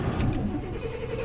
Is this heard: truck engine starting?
yes